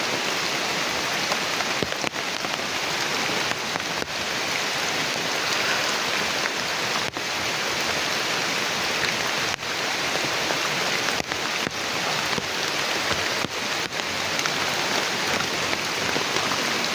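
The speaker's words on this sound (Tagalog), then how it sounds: "Garang ulan na ni." Heavy rain pours steadily outdoors in a forest with no shelter, a dense, loud, unbroken hiss of drops striking surfaces close by, with no voices.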